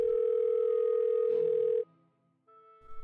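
A steady, loud telephone tone drones for nearly two seconds, cuts out, then returns faintly after a short gap, as a phone call goes unanswered.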